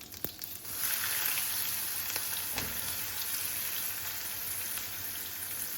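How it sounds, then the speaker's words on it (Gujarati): Cumin seeds, asafoetida and chopped spring onion hit hot oil with a sudden steady sizzle and crackle, close and fairly loud, frying on without talk. "તો એમાં છે ને મેં જીરું નાખ્યું, થોડી હિંગ અને સ્પ્રિંગ ઓનિયન નાખી."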